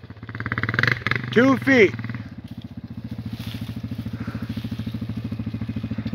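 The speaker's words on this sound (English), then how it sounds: "Listen to that big bore under load, baby." A Honda TRX400EX big-bore ATV engine runs at a motocross track, first revving hard under load with a rising and falling whine, then settling into a steady, even throbbing pulse near the listener, with brief talk early on.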